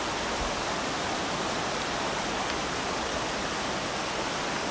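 Steady, dense rush of a mountain valley stream pouring over rocks at a campground, loud and continuous with no voices.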